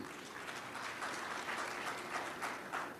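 Audience applause at an ANC political address, a steady wash of clapping from a crowd that stays fairly even across the stretch with no talk over it.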